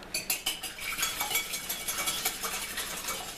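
Eggs being whisked in a bowl for arancini balls, a quick run of metallic clinks and taps from the whisk against the bowl, close and steady with no voices.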